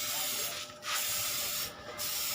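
A Tamiya clear coat spray can sprays lacquer onto a Tamiya Lunchbox model body in steady, close hissing bursts with two short breaks, running near-continuously with no talking.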